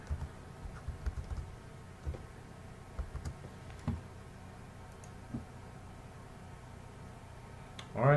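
Computer keyboard typing of login details, light scattered key clicks spread across several seconds at low level, with a louder burst near the end.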